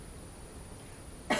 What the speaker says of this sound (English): I've been coughing on and off.